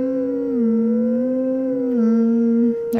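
Wolf Link howls in Zelda: Twilight Princess, a single long, clear, steady wolf howl that holds its pitch with slight wavers and dips near the end, heard up close with no talking over it.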